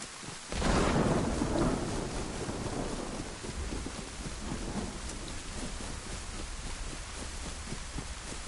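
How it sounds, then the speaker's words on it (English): Heavy rain and thunder in the DayZ video game: a rumbling thunder burst near the start, then steady pouring rain hissing on surfaces with no talking. "Pissing it down with rain, but I'm not getting wet."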